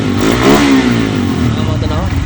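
A RUSI Flame 150i motorcycle engine, with an unstable idle and a suspected TPS sensor fault, revs under the throttle. The note is steady, loud and close, rising briefly, with a voice talking over it.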